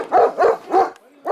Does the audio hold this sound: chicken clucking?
no